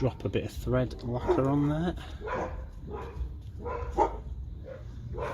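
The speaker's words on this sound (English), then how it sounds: "Sorry about the dogs." Dogs barking repeatedly near a driveway while someone works on a car's brake discs and pads, sharp barks and yips mixed with someone speaking over them.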